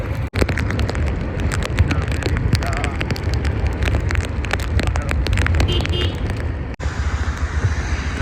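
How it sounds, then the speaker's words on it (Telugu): Heavy rain pours steadily during a road trip toward a temple near Vemulawada, a dense, continuous roar with wind-like rushing that barely lets up throughout. "వర్షం బాగా పడుతుంది"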